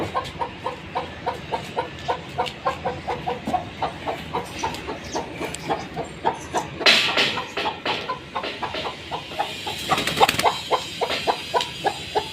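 A hen guarding her eggs, in a village yard, gives rhythmic, close clucking in a steady pulse of short calls. Louder squawks and flapping break out near the middle and again toward the end.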